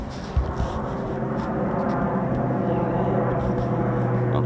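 An F-35B fighter jet at RAF Marham gives off a steady, broad jet roar at moderate distance, continuous and even, with people talking faintly in the background.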